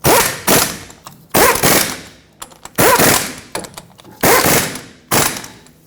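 Bolts on a bracket fitted to a Chevrolet Colorado differential tube are run down with a power tool in loud, close bursts of rapid rattling, about six separate pulls with short pauses between them.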